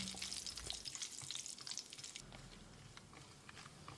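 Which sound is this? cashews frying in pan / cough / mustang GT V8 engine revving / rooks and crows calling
cashews frying in pan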